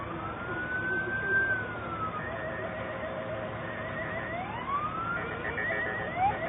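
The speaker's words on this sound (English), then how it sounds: "This is some sirens in the distance." Siren wails rising and falling in the distance amid traffic noise, steady and moderately faint, heard from a garage.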